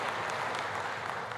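A steady wash of subdued clapping from the audience at the 2020 State of the Union address holds at an even, moderate level throughout, with no voices over it.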